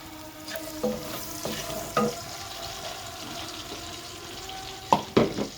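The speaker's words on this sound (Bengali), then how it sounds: "চুলা জালটা একটু বাড়াই দিলাম পেঁয়াজ দিয়ে দিলাম" Onions and whole spices, including bay leaves and dried chillies, frying in oil in a home kitchen, with a steady faint sizzle and a few louder stirring clatters in the pan.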